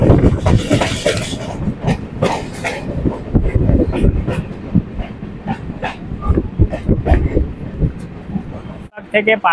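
An Eastern Railway local train in the Sealdah division runs near Tala station in Kolkata, giving a steady, loud, rattling rumble from onboard, with some indistinct voices mixed in and the noise dropping off briefly near the end.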